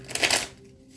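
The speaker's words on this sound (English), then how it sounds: "we're going to shuffle again" A quick burst of tarot cards being shuffled, a crisp riffling flutter lasting about half a second, then near silence.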